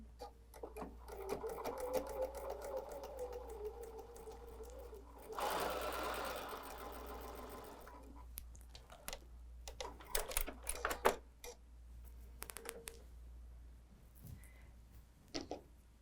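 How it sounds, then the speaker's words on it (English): Sewing machine stitching a quarter-inch seam on quilting fabric for a table runner, a fast steady mechanical whir with rapid needle clatter, pausing and restarting in short bursts, close and moderately quiet. "Now we still go sew our 1/4 inch seam."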